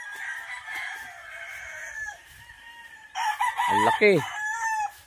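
Chickens and roosters on a farm in Pangasinan, soft clucking and calls giving way to a loud nearby rooster crow, with a brief voice speaking.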